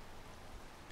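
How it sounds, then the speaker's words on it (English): Steady rain falling in the video game Rain World, a dense even wash of patter that fills the whole moment at low level with no voices over it. "Oh gosh, the rain's coming, you guys."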